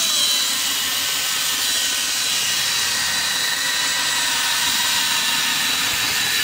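A polishing pad spins at speed against a part of a Technics SL-Q200 turntable, making a steady, loud, unbroken whirring hiss that holds at one level throughout, with no talking.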